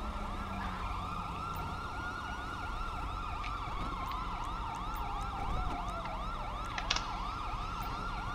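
Wailing ambulance siren in GTA V cycling steadily up and down throughout, loud and near, with faint road noise and a couple of short electronic blips underneath.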